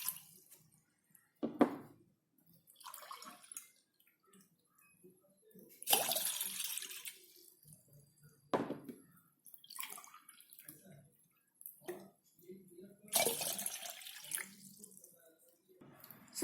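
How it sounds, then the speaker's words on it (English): Water from a glass pours in several short splashing bursts with pauses between, fairly quiet and close, alongside faint handling sounds. "I have taken a glass of water and I am going to pour it"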